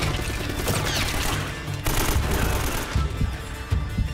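Sustained automatic gunfire and explosive bursts from a firefight in Uncharted: Drake's Fortune, a dense, loud barrage of rapid shots running the whole time with heavier booming hits near the end.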